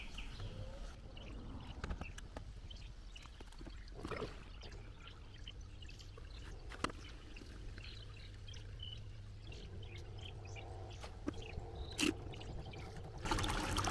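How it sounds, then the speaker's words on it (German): A camping washing machine pumps water out into a 10-liter bucket, making a faint, steady trickle and splash with occasional knocks, and birds are heard faintly in the background. "Ich werde mir mal einen 10 Liter Eimer holen und mal kicken, was sie rauspumpt."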